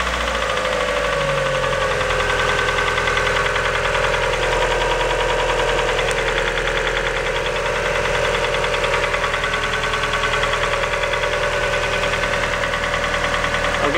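A car engine with freshly changed spark plugs runs loud and close, lifted slightly on the throttle, with a rapid, steady knocking tick layered over the mechanical drone throughout.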